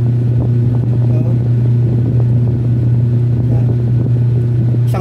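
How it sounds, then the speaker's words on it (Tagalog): Washing machine motor spinning during a repair, a loud steady electric hum with a constant low drone and faint mechanical rattles running throughout, with a brief spoken word near the start. "yan ang ikot ng washing machine mo"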